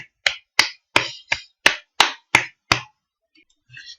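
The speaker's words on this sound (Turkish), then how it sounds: "Alkışlayalım." Hand clapping called for after a YouTuber ranking announcement: about eight sharp, evenly spaced claps, close and crisp, followed by brief faint noises.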